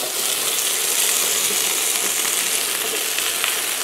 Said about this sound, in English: And now we're just going to add this to the skillet.